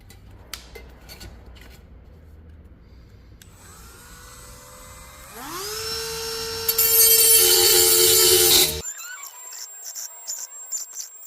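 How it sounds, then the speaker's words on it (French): Dremel rotary tool deburring punched holes in tin cans for a wood gas stove: a few light taps, then the motor whines up to a loud, shrill grinding buzz that cuts off abruptly, followed by a fainter high hum and clicks. "alors on va les ébavurer avec le Dremel maintenant."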